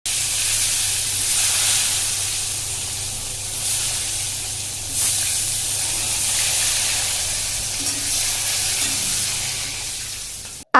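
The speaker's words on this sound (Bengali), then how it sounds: "এবার ওই মাছ ভাজার তেলেই আলুগুলোকে আমি ভালোভাবে ফ্রাই করে নেব।" Potatoes frying in leftover fish-frying oil give a steady, close sizzling hiss with faint crackles, swelling slightly at moments and cutting off at the very end.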